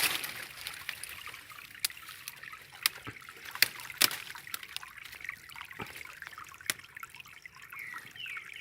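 Water from a mountain spring trickles and splashes steadily, with a continuous broadband rush and scattered sharp drips and plinks standing out close by.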